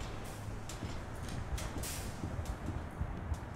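Low rumbling rail noise with rhythmic clacks and hissy bursts, like trains rolling along tracks at a moderate distance, in the video game Bendy and the Ink Machine, Chapter 4.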